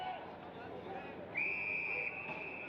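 An umpire's whistle at an Australian football Colts match between East Perth and Subiaco sounds once as a steady shrill blast of under a second, over crowd noise and commentary.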